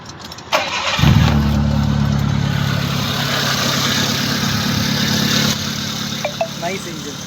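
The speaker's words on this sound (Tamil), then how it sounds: "Nice engine. Running." A Proton Waja car engine turns over and settles into a loud, steady idle with a low rumble, heard up close for several seconds before it quiets slightly near the end.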